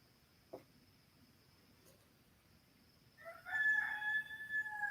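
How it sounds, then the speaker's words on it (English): A rooster crows near the end, a loud drawn-out call with a rising then falling shape, after quiet morning ambience with a faint click. "That little rooster didn't go to crowing until after I got up."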